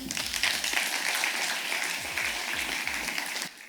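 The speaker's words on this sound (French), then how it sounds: "On peut l'applaudir?" An audience claps for a speaker in a crowd of hands, the applause sustained and fairly loud before cutting off abruptly near the end.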